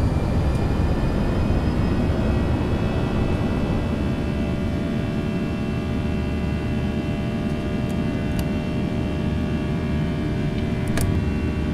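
Airbus A320 jet engines in X-Plane 11 rising to go-around power on a snowy approach, a steady loud broadband roar with tonal hum lasting throughout, no voices.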